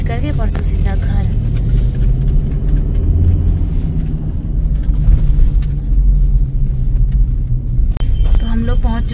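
A car engine rumbles low and steady while the car is parked in a paid parking area at Solang Valley, with a few voices and brief clatter over the drone.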